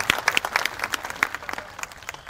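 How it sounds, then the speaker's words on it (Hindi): An audience claps at a Hindi kavi sammelan poetry gathering, a dense, lively patter of many hands close by that thins slightly toward the end. "आपने इतनी तालियां बजाई"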